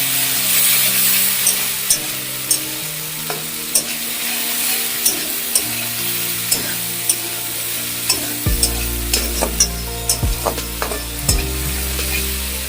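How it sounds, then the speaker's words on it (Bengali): Egg tarka for a paratha dinner stirred and fried in a pan, a steady close sizzle with repeated scraping and tapping strokes of a utensil against the pan; no talking. "এটাকে ভালো করে মিক্স করে নিয়ে একটু হতে দিতে হবে।"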